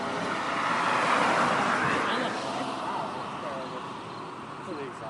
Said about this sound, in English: I want to see that Porsche pull on the road.